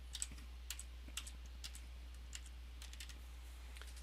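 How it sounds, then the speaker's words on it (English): Quiet, close typing on a computer keyboard: scattered light key clicks in short irregular bursts over a low steady hum. "Now we're going to search my blog, and I'll type in organizer again."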